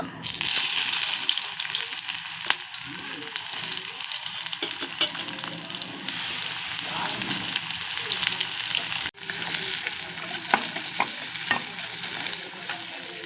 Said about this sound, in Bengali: তেল কিন্তু আমার গরম হয়ে গেছে। এবার আমি পেঁয়াজ কুচিগুলো দিয়ে দেব।